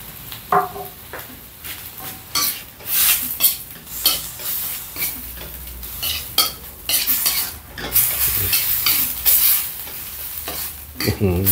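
Beef red curry sizzling in a pan over low heat as coconut milk goes in, with steady frying crackle and repeated scraping strokes of a spoon stirring against the pan, close and continuous.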